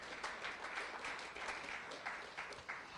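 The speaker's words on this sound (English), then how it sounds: "So let's give them a big round of applause to thank them for their support." Audience at an evening pitch-competition event applauding, steady moderate clapping from a room full of people, fairly faint and even.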